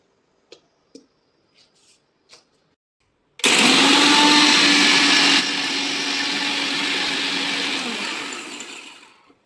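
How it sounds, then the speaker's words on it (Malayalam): A kitchen blender purees passion fruit pulp with black jaggery and water, starting abruptly after a few light taps and running as a loud, steady whirring roar that eases slightly partway through, with no talking. "നമുക്ക് ബ്ലെൻഡ് ചെയ്തെടുക്കാം"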